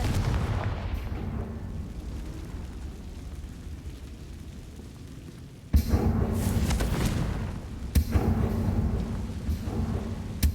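Confringo blast spells fired in a Harry Potter video game: a rumbling explosion fades over several seconds, then a sharp loud burst strikes and a second hit follows, each leaving a thundery rolling tail.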